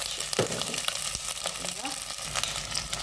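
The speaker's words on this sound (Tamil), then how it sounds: "இந்த இறால் தலை வந்து நல்லா வதங்க விட்டுருவோமா?" Prawn heads frying in hot sesame oil in a pan, a continuous crackling sizzle with scattered sharp pops and occasional stirring clatter, close and steady throughout.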